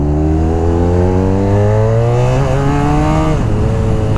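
A 170 HP sports touring motorcycle with a dual-clutch transmission pulls hard, its engine note climbing steadily, then dips sharply at an upshift before rising again; loud, close and continuous with no talking.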